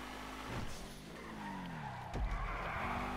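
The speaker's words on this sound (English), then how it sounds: "I try to to take the turns with drift but it's difficult" Car sliding through turns in GTA V, tires skidding during a drift attempt; a steady engine drone with a sharp screech near the end, continuous and fairly loud.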